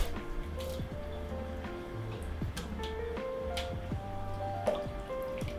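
Oil-coated ingredients for florentines are rinsed briefly in warm water, giving soft close sloshing, squishy handling sounds and scattered small drips.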